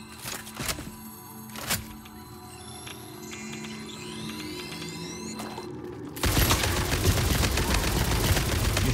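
Gunfire aimed at spider creatures in a cave in Satisfactory, with sharp isolated shots early on giving way to a dense, sustained burst of rapid firing that fills the last few seconds loudly.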